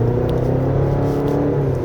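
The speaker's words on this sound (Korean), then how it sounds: "지금 이제 다운시프트, 그러니까 엑셀 밟은 거에 의한 다운시프트와" A 2025 Chevrolet Colorado Z71 pickup kicks down a gear and pulls hard with turbo boost on a winding road, a steady, close, loud engine drone and whir from inside the cab, with no talk.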